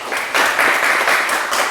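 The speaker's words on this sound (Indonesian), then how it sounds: "Ya, tepuk tangan dulu untuk kita semua" Classroom applause from a group of students, a burst of dense clapping that starts softly and swells after a moment, then holds steady and fairly close throughout.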